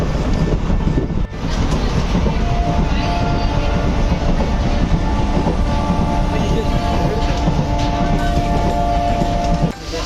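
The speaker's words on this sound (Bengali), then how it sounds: "লাটাগুড়ি স্টেশনে ট্রেনটা দাঁড়াইলো হালকা করে" A passenger train runs loud and steady near Lataguri station in West Bengal, a continuous heavy rumble of wheels and carriages with faint rail clatter and a brief dip early on, heard from close by inside the train.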